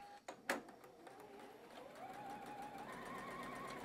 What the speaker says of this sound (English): we're gonna go ahead and sew another quarter inch seam allowance across the bottom now